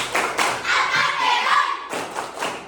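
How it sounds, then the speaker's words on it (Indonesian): A classroom of students in Indonesia clapping hands together in a chant-like rhythmic pattern, with repeated bursts of claps and thuds close by, loud and energetic over a short stretch. "Kita tepuk dulu biar semangat."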